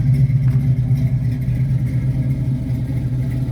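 Deep, steady rumble of a 1971 Mustang Mach One's 394 stroker V8, heard close and loud, the engine note holding nearly constant with slight fluctuations and no voices.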